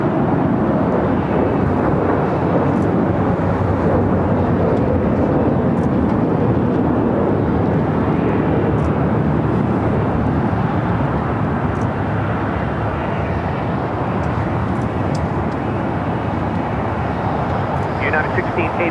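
An Air Tahiti Nui airliner at Los Angeles airport rumbles loudly and continuously, a broad roaring engine wash that holds steady throughout with a slight rise toward the end.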